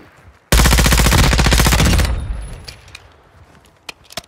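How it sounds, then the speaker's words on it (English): A loud, sudden burst of sniper rifle fire in a video game for about a second and a half, then a ringing decay with scattered faint clicks and thuds. "sniper rifle was loud, isn't it?"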